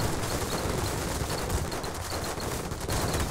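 Dense, continuous gunfire from an airship battle in the game Airships: Conquer the Skies: a steady, loud barrage of rapid shots with no talking over it.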